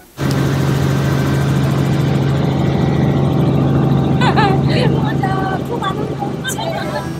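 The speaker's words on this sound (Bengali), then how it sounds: "সুদূর আটলান্টিক মহাসাগর, তার উপর দিয়ে হেলিকপ্টার ছুটে বেড়াচ্ছে" A helicopter flies over the Atlantic Ocean, heard as a loud, steady engine drone with a constant low hum that runs through the whole stretch, while voices come in faintly over the later part.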